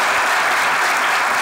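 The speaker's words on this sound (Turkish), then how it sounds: "Şahane bir şekilde alkışlarınızla devam ediyor sevgili." Dense, continuous applause from a studio audience on a Turkish comedy show, a loud and even wash of clapping throughout.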